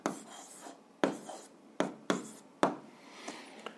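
Pen or chalk writing during a seventh-grade physics lesson, with several quick, distinct strokes and taps in irregular rhythm, close and fairly clear against a quiet room, no voices.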